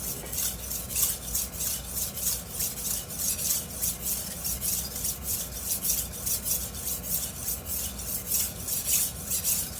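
A knife being sharpened on a 1k grit whetstone: continuous close rasping strokes with a steady back-and-forth rhythm, each pass a gritty scrape of steel on stone, moderately loud and without talking.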